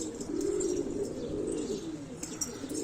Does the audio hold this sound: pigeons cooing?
yes